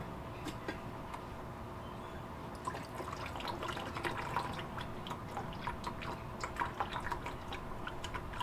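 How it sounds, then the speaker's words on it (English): Liquid siphoned off settled gold finger foil sediment recovered from RAM sticks, heard as a soft continuous trickle with scattered close drips and small splashes that grow busier toward the end. "I'm thinking that siphoning is probably the best way to do this."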